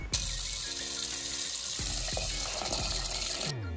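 Water pouring into a soup pot in a home kitchen, a steady continuous stream lasting several seconds, close and even, with a few faint clinks.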